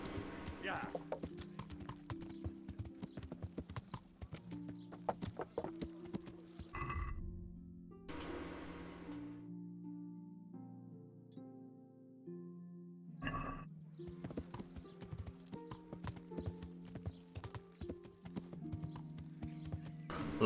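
Horse hooves clip-clopping in the video game Kingdom Come: Deliverance, a steady rhythmic trot of hoofbeats with pauses, over game music, while a person talks.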